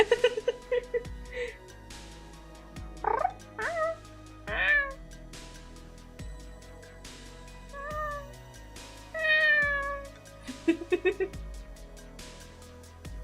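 A person imitates a cat, voicing a series of short rising and falling meows, some drawn out and others clipped, close and clear with pauses between them and no other talk.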